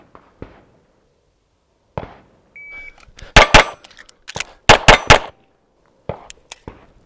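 Pistol shots ringing off Action Target static steel targets at a range, heard as quick paired and single sharp cracks in close bursts with brief gaps, plus a timer beep near the start.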